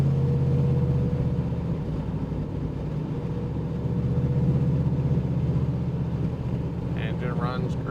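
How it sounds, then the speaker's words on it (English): An old Ford Mustang's engine idles steadily at a low, even rumble, running on with a faint higher whine and a brief rustle near the end, and no speech. "Engine runs great."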